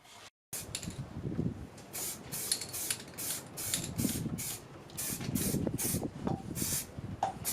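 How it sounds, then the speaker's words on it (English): Hammerite spray paint hisses from an aerosol can in repeated short bursts, close and steady, as welded suspension parts for a BMW E24/E28 are coated in a workshop. "I love the smell of hammerite spray paint"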